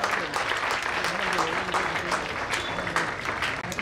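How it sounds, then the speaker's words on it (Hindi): An audience at a women police job fair in Hyderabad gives a sustained round of steady, crowded applause that fills the whole moment without a break. "एक बार सब लोग बहुत जोर से ताली बजाइए"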